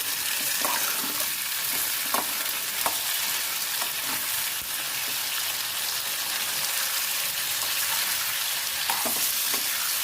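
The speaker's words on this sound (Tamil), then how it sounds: "நல்லா இது வதங்கட்டும்." Onions and tomatoes sauté in a pan with salt, a continuous close sizzle punctuated every second or two by the soft scrape and clink of stirring, with no talking.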